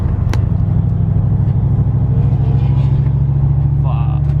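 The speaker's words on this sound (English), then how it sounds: "I see this badass Corvette C6, and it definitely has an aftermarket exhaust system" A Corvette C6 engine with an aftermarket exhaust rumbles loudly and steadily throughout, a deep continuous exhaust drone close by with traffic noise around it.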